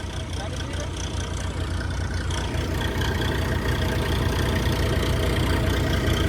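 A tractor engine idles on a farm during cumin harvesting, a steady low rumbling drone that stays loud and constant throughout.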